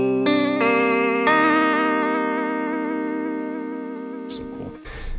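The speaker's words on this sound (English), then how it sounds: "it's just like a kind of like a little like tape machine, a warble" Guitar through a tape echo effect in the Neural DSP Archetype Misha Mansoor plugin, sustained chords with a gentle warbling wobble, struck in a few stages and slowly fading, played alone.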